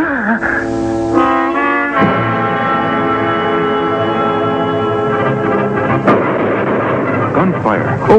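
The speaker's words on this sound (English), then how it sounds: "Gunfire over that hill, Kemosabe." Gunfire from a 1966 western TV episode, sharp loud shots and booming reports over dramatic orchestral music, with a thick burst of noise and rumbling near the end.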